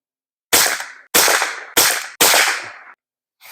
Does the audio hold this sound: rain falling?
no